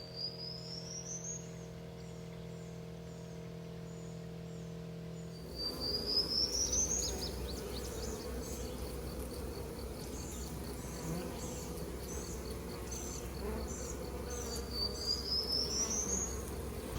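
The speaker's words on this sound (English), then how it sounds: "They got this whole top box nearly drawn out. That is one heck of a swarm." A honey bee swarm drones around a hive box in a steady, close buzzing hum that runs throughout, while a bird's rising chirps sound faintly in the background.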